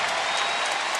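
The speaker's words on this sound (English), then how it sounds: "The fans should give him a nice round of applause as he goes to the bench." Basketball fans in an arena at an LSU versus Kentucky game applaud steadily, a dense, loud wash of clapping that holds evenly for the whole brief moment.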